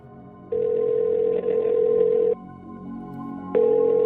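Phone ringback tone on an unanswered call, a steady electronic tone sounding in long bursts with a gap between rings, clear and close with no voices.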